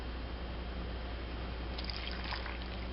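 Milk is poured straight into a bowl on a kitchen scale while making mashed potatoes. It makes a steady, soft liquid stream with a faint trickle toward the end, close by and without talk.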